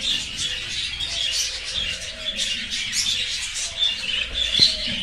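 Budgerigars chirp continuously at a breeding farm, a dense, busy chatter of many small birds at close range, with steady overlapping tweets and warbles throughout.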